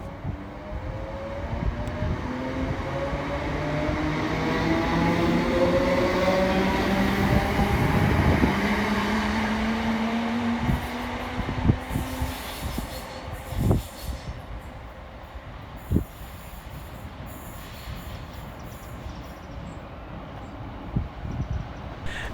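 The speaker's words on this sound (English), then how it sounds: "Next train to depart from the station is 320-403, working the 1625 Scotrail service from Glasgow Central through to Newton via Queen's Park." ScotRail class 320 electric multiple unit departing a Glasgow suburban station, a rising then fading electric motor whine with wheel and rail rumble, followed by sharp clanks and thumps as it pulls away.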